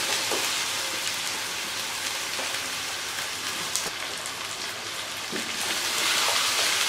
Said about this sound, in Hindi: अब इसमें हम मटन को थोड़ी देर भूनेंगे